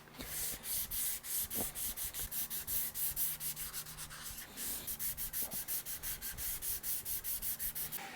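Hand sanding of a wooden guitar body with 360-grit sandpaper, a steady series of close, rhythmic back-and-forth rubbing strokes with no talking.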